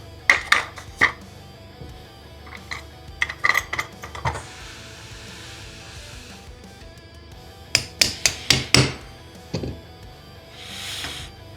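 Sharp metallic taps of a punch driving out the hammer spring of a SIG M400 rifle during disassembly, arriving in small bursts of two to four strikes with pauses between, close and fairly loud, with no talking.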